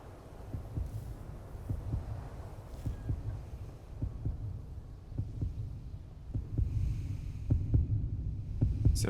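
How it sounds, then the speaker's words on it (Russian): A heartbeat in the video game Call of Juarez: Gunslinger thumps in a steady double-pulse rhythm, low and muffled, repeating over a faint hum and growing slightly louder toward the end. "Сердцебиение."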